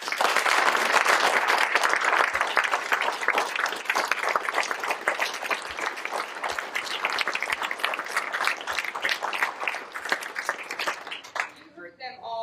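A graduation ceremony audience applauds a graduating class of seven with dense, sustained clapping from many people for about eleven seconds, loud at first, then easing and stopping near the end.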